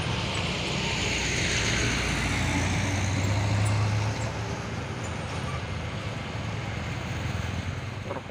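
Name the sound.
Mitsubishi Fuso intercooler truck passing on uphill road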